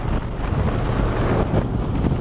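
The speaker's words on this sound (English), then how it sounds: "Wind is really gnarly today" Strong wind roars against a vehicle driving at highway speed, around 80 mph in sixth gear, as a loud, continuous broadband rush without speech.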